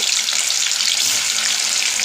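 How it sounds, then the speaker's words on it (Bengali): Fish fries in a generous amount of hot oil in a wok, producing a dense, loud, continuous sizzling hiss at close range for a couple of seconds. "এখন কড়াইয়ের তেল গরম হয়ে গেছে মাছটা আগে ভেজে নিয়ে একটু বেশ কড়া করেই ভাজবো"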